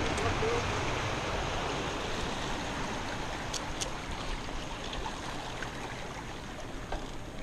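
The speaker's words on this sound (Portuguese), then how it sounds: "A cachoeira." A waterfall reached on a mountain bike ride rushes in a steady, broad roar of falling water that fills the scene at an even level throughout.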